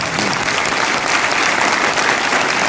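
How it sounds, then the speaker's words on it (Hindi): Loud, dense applause from a large crowd at a business-building seminar in Mayaganj, India, continuous and close, filling the whole moment without any talking. "उनके लिए अभी तक की दिल से एक जोरदार ताली साथियों"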